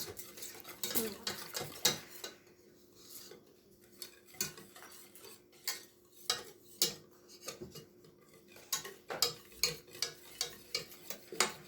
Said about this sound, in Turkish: Ben şimdi çırpmaya başlıyorum.